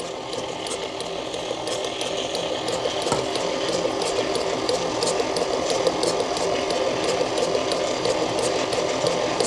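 Steady, continuous mechanical whirring of an electric mixer beating Bundt cake batter, loud and close with a gear-like rattle running through the whole stretch and no voices.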